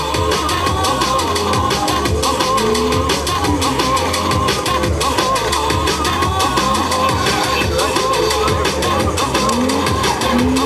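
A drift car makes its run at a Latvian Drift Series event on a partly wet, partly dry track, with loud sustained engine roar and tyre squeal, commentary running over it.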